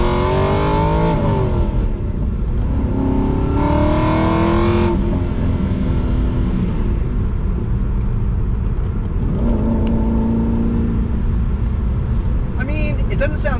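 Aston Martin V8 Vantage engine pulling in first gear while staying under 4,000 RPM, heard from inside the car as a loud, steady drone with pitch rising and easing through gentle revs, and someone talking over it.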